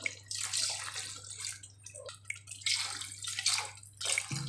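Water poured into two cups of rice in a pot for Dindigul Thalappakatti chicken biryani, a splashing, gurgling stream coming in several pours with short breaks, close and fairly quiet, no talk.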